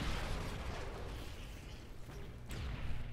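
A grenade blast in a video game, a loud broadband rumbling burst that decays over a few seconds, followed by a couple of sharper pops near the end.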